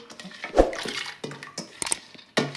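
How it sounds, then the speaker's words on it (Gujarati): Water sloshes and splashes in a bowl as lentils (dal) are washed, several uneven close bursts of swishing and dripping with short quiet gaps between. "સરસ મજાની દાળ ધોઈ નાખી 2-3 પાણીએ"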